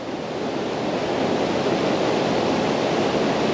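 Strong floodwater rushes down a mountain with a continuous, loud, hissing roar that holds level from start to finish and has no voices over it.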